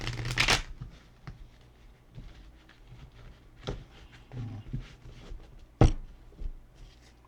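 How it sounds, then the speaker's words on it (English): A deck of playing cards is riffled and shuffled, with a sharp burst of rapid flutter at the start, a second crisp riffle near the end, and quiet handling and tapping in between. "One more shuffle, y'all."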